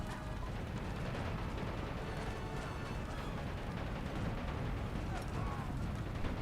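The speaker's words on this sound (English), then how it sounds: "And now the second one comes under artillery fire" Artillery fire in the WWI strategy game The Great War: a dense, continuous rumble of shelling and explosions with heavy low-end roar, steady and loud throughout, with no gaps between impacts.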